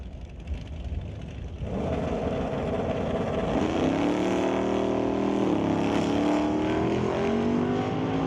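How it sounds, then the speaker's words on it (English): Drag racing cars, among them an '83 Firebird, roar down the strip at a Super Pro race, a loud sustained engine drone that swells and holds with shifting pitch, heard at a distance without speech. "John in the left lane dialed in with a 1043, taking on Wes Vath in the 83 Firebird with a 930 up there on the leaderboard"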